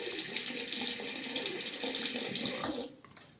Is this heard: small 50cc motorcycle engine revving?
no